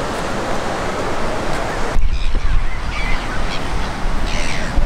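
Geese honking near a beach with surf, calls rising over a steady wash of waves and wind, with the noise shifting abruptly partway through.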